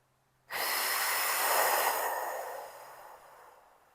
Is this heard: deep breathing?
yes